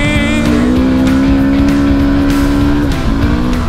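A rally motorcycle accelerates hard on a dune stage of a desert rally, its engine note droning loudly up close and then dipping briefly near the end, with no talking.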